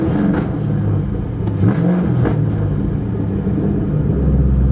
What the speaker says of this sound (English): Should we give her a little rev?